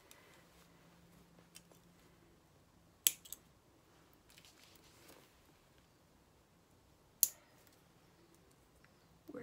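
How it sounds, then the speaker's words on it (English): Scissors trim stray bits of hair from a painted doll with a couple of sharp, isolated snips amid soft rustling and light clicks in an otherwise quiet room. "Let me snip off all these bits here."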